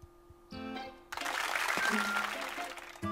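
Cartoonish crowd applause from the video game Super Mario Maker 2 rises after a short jingle, a bright burst of clapping lasting about two seconds amid game sound effects.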